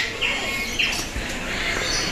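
Moluccan cockatoos at a safari park give a few sharp chirping calls over a steady outdoor background hum, brief and fairly close.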